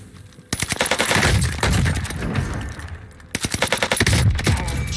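Rapid automatic bursts from a Vargo S rifle in a shooter game, two long sustained strings of loud, close shots separated by a brief pause, with no voices.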